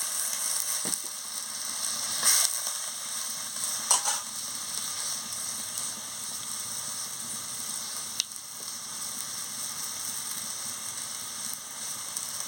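Fried dal lentils in a pan after water is poured in, a continuous broad sizzle and bubbling with a few scattered utensil clinks, no voices.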